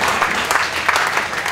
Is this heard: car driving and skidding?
no